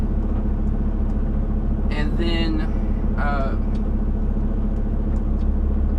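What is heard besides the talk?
truck engine running to build up brake air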